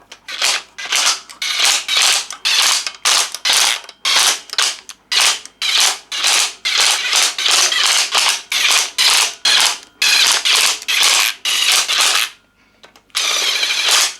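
Pneumatic impact wrench fires in rapid repeated bursts, loud and close, tightening cylinder head bolts on a Mercedes OM603 diesel engine for a W124, with brief pauses between bolts.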